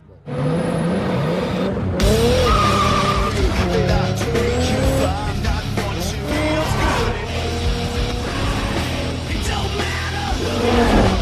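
A Toyota Supra tears away in a film street-racing scene, its engine roaring loudly as tires squeal and skid in repeated screeches, with a shout or yell mixed into the din.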